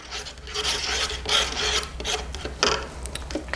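Wood dye with three drops of blue stirred in a container, a steady close scraping and rubbing that rises and falls in strokes, alone without voices.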